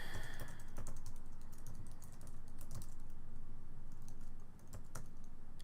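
Rapid, irregular keystrokes on a computer keyboard while filling out an online sign-up form for a backup service, close and steady throughout with a few louder taps, no talking.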